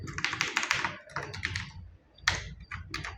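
Rapid clattering keystrokes on a computer keyboard while typing text into poster design software, coming in close bursts with a short pause before a final flurry.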